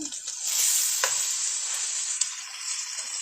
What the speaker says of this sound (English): let it fry a little bit on that side